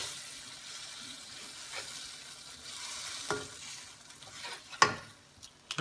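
A metal spoon stirs fish escabeche seasoned with black pepper in a pan, giving a soft steady scrape and low sizzle with a few sharper knocks and clinks toward the end.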